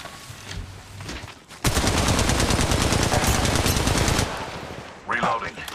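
Automatic gunfire in the mobile battle-royale game Apex Legends Mobile: a loud, dense rattling burst of rapid shots lasting a few seconds, followed by quieter in-game sounds and another short burst.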